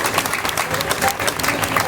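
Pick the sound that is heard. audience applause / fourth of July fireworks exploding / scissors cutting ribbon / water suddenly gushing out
audience applause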